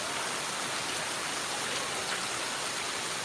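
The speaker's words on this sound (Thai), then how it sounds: "ฝนตกหนักนะคะ" Steady, dense rain pouring down, a continuous hiss of water hitting surfaces with no voices.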